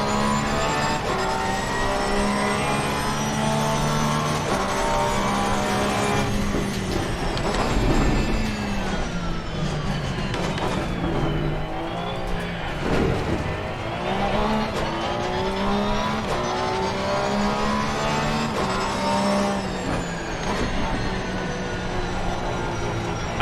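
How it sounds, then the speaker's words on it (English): A race car in Assetto Corsa Competizione drives continuously with a loud whining engine, revving up and down through gear changes, with tire squeal and braking as it slows into corners and accelerates out again. "I felt the car jerk when I put the brakes on."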